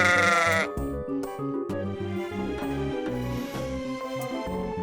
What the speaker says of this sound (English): Here is the sheep.